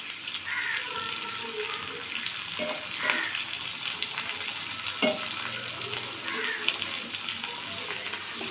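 Cashews and raisins fry together in a pan of oil with a bay leaf, a steady moderate sizzle broken by a few scraping stirs and light clinks.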